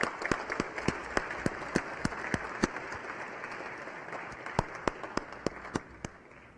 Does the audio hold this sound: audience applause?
yes